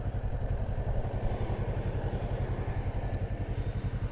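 A motorcycle idles at a traffic light on a Toronto street, its engine throbbing in a steady, even pulse that stays close and fairly loud under light wind for the whole stretch.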